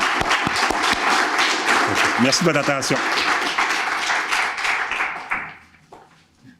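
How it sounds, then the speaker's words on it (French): Audience clapping at a primary school expansion inauguration, a dense, steady applause lasting several seconds with a brief spoken line over it before it fades away. "Je pense ça mérite une belle main d'applaudissements, puis bravo encore."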